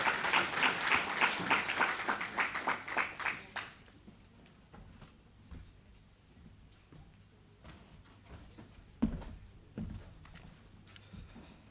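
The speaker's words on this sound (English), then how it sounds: "Can we please give him a big round of applause as he comes in here?" Applause welcomes a speaker at a World Teachers Day awards ceremony: dense clapping for about four seconds, then it breaks off into quiet room noise with faint scattered sounds.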